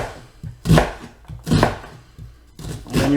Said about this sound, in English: So that's 9 knife cuts.